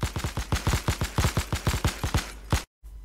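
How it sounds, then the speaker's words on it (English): A tank's machine-gun turret in a siege-tank video game fires a rapid, even burst of about twenty close, punchy shots. The burst cuts off abruptly, leaving brief silence and then faint ambience. "this just showcases the strength of having an MG turret on your tank"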